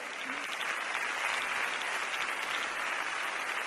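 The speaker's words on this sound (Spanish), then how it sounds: "La obra resulta un éxito y el público aplaude puesto en pie." A theatre audience at a Roman theatre performance rises in a standing ovation, with broad, sustained clapping from a large crowd that fills the space at an even, moderate level.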